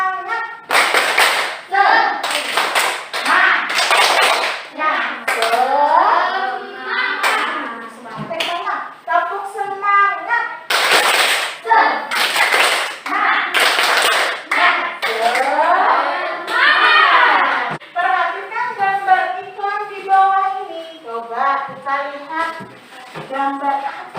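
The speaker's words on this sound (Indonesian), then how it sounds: "Tepuk semangat dulu," Schoolchildren in an Indonesian classroom perform a rhythmic spirit clap, bursts of patterned group clapping alternating with chanted, sing-song voices, loud and close, repeating in several rounds.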